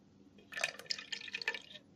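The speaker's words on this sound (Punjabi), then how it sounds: "ਪਾਣੀ ਪਾ ਲਾਂਗੇ" Water poured into half a kilo of yogurt in a jar while making sweet mint lassi, a brief bright splashing trickle that starts abruptly and runs steadily for about a second and a half, close and fairly quiet.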